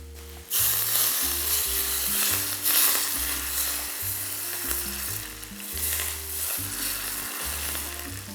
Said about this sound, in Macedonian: Джигерот се пржи кратко, но силен оган